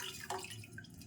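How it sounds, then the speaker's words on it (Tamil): Tamarind water is poured into a pan of rasam: a soft, continuous liquid trickle and splash, close and quiet, over about a second with no talk. "அந்த புளி தண்ணியும் ஊற்றி"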